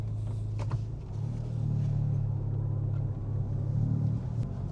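A car pulls away and gathers speed, its engine a steady low rumble that swells slightly as it accelerates, heard from inside with no voices.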